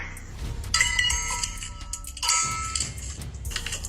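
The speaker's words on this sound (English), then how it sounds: "I poured Diet Pepsi into my ice cubes." Ice cubes clink and clatter in a glass as Diet Pepsi is poured over them, with bright, close clanks and dings in two bursts over a steady fizzing pour.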